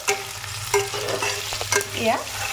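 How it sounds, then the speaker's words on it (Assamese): Onions fry in oil with a spoonful of sugar while being stirred until browned, for a goat meat curry. The sizzle is loud and close, and several sharp scraping strokes rise above it. "এতিয়া মই এই পিঁয়াজখিনি ৰঙচুৱা হোৱালৈকে ভাজি থাকিম"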